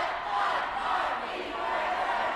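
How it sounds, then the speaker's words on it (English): At the end of a boys varsity game, a crowd cheers and chants loudly and continuously, a broad roar of many voices filling a gym. "Fire Nation is cheering loud"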